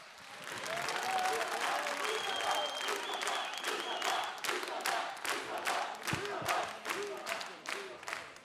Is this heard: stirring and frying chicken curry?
no